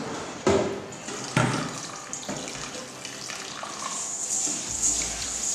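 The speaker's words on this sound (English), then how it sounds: "So this is my brown rice. I'm going to be washing this with salt." Brown rice being washed with salt in water, splashing and running-tap sounds with a couple of sharp knocks early on, then steady swishing water, fairly close and no talk.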